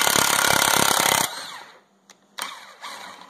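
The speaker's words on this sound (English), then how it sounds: "hit it a couple times with the air hammer" Air hammer pounding on a ball joint of a 2010 Ford F250, a loud dense rapid rattle for over a second, then it stops, leaving a few faint clanks and scrapes.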